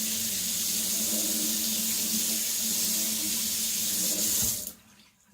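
Tap water runs steadily into a sink, rinsing a Kanso Aogami gyuto kitchen knife after sharpening; a constant splashing hiss that cuts off abruptly near the end.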